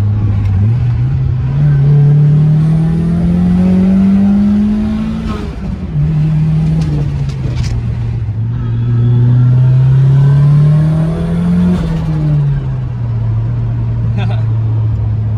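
A Nissan 240SX with an exhaust that drags on the ground revs hard in two long, loud swells, the engine note climbing and dropping close by on a test drive.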